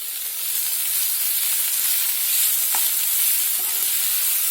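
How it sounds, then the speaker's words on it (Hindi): Tomatoes frying in oil with crushed ginger, garlic and green chili: a loud, constant sizzling hiss up close, with a couple of faint spoon scrapes and no voices. "इसे तेल छूटने तक भून लेते हैं। टमाटर को सॉफ्ट होने तक भून लेते हैं।"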